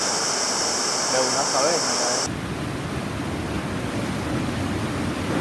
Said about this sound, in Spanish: Sale el río de la montaña.